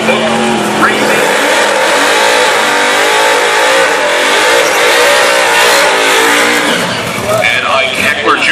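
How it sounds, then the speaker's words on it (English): A 1967 Pontiac Le Mans drag car revs loudly at the strip, the engine roaring and rising in pitch as it launches, with a race announcer talking over the continuous noise. "And Ike Eckler Jr. in a 67 Pontiac Le Mans, number 20 qualifier with a 1093"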